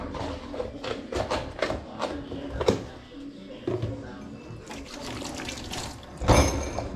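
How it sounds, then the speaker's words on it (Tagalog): Water poured into a pot of cooked rice outdoors, a loud running splash with gurgling bursts and drips, while a person talks intermittently over it. "Lagyan natin ulit ng tubig."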